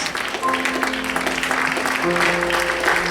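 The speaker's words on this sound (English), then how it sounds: "A round of applause, please, for all of our Mafia players." Audience applause for players after an evening Mafia party game, a steady wash of clapping with faint tonal music underneath.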